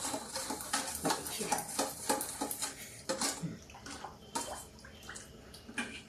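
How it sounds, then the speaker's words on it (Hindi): A spoon stirs jaljeera spice mix with jaggery in a bowl. Close, continuous swishing and scraping comes with frequent light clinks against the dish. "ये देखिए, 1 स्पून मैंने गुड़ डाल दिया। अब इसको हम ऐसे मिक्स कर देते हैं।"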